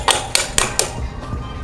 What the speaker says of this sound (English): the back end is kind of like a hammer, so you can